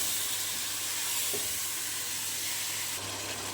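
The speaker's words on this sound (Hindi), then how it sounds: "अब इसमें 1 किलो चिकन डाल देंगे। अब इसकी भी अच्छे से भुनाई कर लेंगे।" Chicken sizzles and fries in a spiced masala, a faint, steady crackling hiss with no talking.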